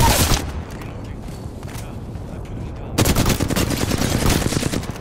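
Loud, rapid automatic gunfire from the video game Apex Legends bursts out in dense volleys, quieter at first and then a sustained, close barrage in the second half.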